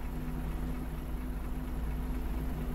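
A bus engine running in the video game Bus World, a steady low idling rumble with a constant hum and no change in pitch, heard alone.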